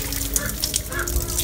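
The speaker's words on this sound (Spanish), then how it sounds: "hay una ducha aquí. Y me estoy quitando la arena" Water from an outdoor shower splashes and rinses sand off bare feet after a day at the beach, a steady close-up spatter with no pauses.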